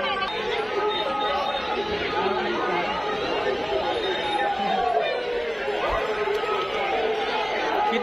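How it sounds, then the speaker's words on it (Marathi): Dense crowd chatter fills the night at a Mahashivratri bullock cart race, many voices overlapping steadily and close by with no pause. "किती गर्दी आहे."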